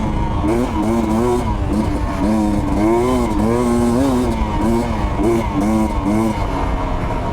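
Sherco 250 SE Factory two-stroke dirt bike being ridden, its engine buzzing close and loud throughout with repeated rising and falling revs as the throttle opens and eases off.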